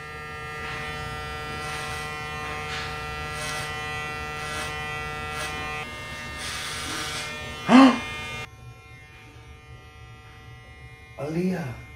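An electric hair clipper buzzes steadily as it cuts an adult's hair at home, the clipper held by a young child, with people talking over it and a brief louder burst near the end.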